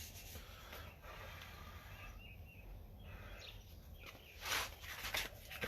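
Fine-grit sandpaper rubbed back and forth along a guitar fingerboard, a soft steady scratchy hiss running throughout at close range, swelling louder near the end, with faint bird chirps outdoors behind it.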